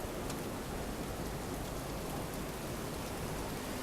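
Nor'easter storm on a December Christmas morning, with steady heavy rain and wind roaring as a continuous, loud broadband wash, close and unbroken throughout.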